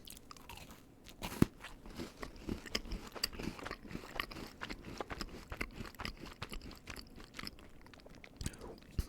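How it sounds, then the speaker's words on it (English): Up-close chewing of a chocolate cookie soaked long in milk until very soft, with a firm chocolate centre; steady quiet crunches and wet mastication noises repeat throughout, no talking. "I left that one in the milk for extra long, and it got extra soft."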